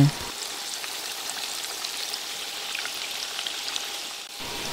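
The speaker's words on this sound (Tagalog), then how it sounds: "prinito ko lang isa-isa yung tokwa at all sides hanggang sa maging golden brown" Tofu pieces frying in hot cooking oil, turned one by one until golden brown on all sides, give a steady, even crackling sizzle that runs throughout with no talk over it.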